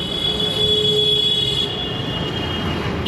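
A train at an Indian railway station in Jabalpur, a loud steady rumble of rolling wagons with high metallic wheel squeal ringing above it throughout, close by and continuous with no talk.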